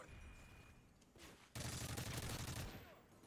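Sustained burst of rapid gunfire in the video game Modern Warfare 3, erupting loud and close after a quieter stretch of game ambience, with a faint voice at the start.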